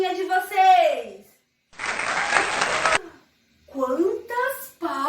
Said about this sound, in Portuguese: Quantas palmas eu escutei aí, gente!